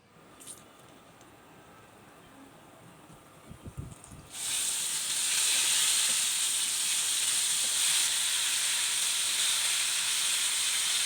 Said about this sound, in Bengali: একইভাবে দ্বিতীয় বেসটাও ভেজে নেব